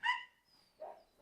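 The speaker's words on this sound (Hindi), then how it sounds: "दुनिया का पहला और इकलौता डोबरमन चरवाहा कुत्ता" A Doberman shepherd dog on a farm gives a short bark followed by a softer second yelp, close by with no talking.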